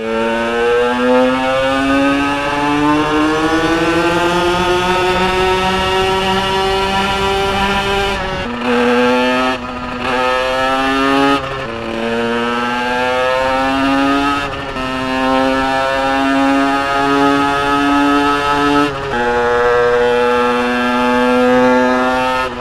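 A loud 140cc twin-engine motorized bicycle roars steadily while ridden hard nearby, its pitch climbing and dropping through several gear-like surges.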